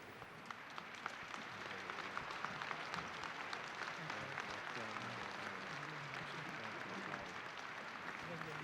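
A large crowd in St Peter's Square applauds in mourning after the death of Pope John Paul II, heard as a faint, diffuse wash of clapping spread across the open square, with voices murmuring underneath.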